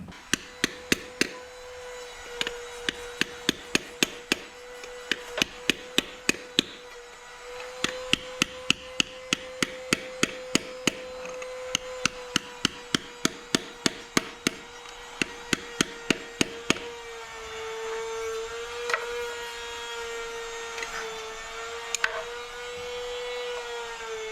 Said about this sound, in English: you come in with like an extension for a socket and a ratchet, and you can just slowly start to tap it around the edges and tap it in